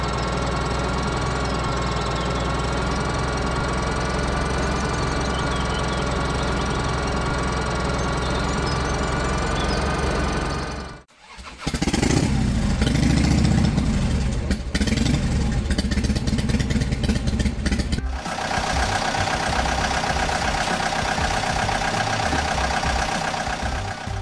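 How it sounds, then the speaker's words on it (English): A tractor engine runs steadily and loudly at a constant idle for about eleven seconds, then cuts to a rougher, revving engine passage and a further steady mechanical drone, with no talk. "Tractor."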